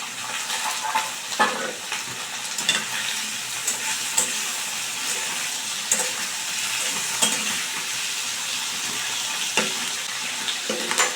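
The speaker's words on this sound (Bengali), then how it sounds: "আর এই পেঁয়াজের সঙ্গেই কিন্তু আমি এখানে কুমড়োটাকে অ্যাড করে দিচ্ছি।" Pumpkin pieces fry with onions in a pan, making a dense, continuous sizzle with light stirring scrapes throughout and no talking.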